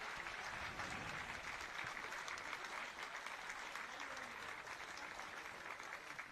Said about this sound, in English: It's a warm ovation for the officials